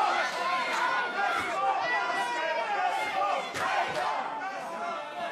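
A wrestling arena crowd roars and shouts in a loud, sustained, agitated wave, with surges of yelling rising and falling throughout.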